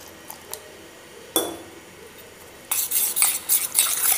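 Gram flour being stirred into dosa batter produces a couple of soft taps and one sharp clink, then a close, wet, rhythmic swishing of a spoon through thick batter.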